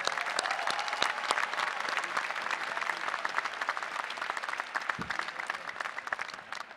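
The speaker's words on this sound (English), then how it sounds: "Let's give them a round of applause." Audience applause for a brass quintet at a university convocation, a dense, steady crowd clapping that carries on for several seconds at a moderate distance.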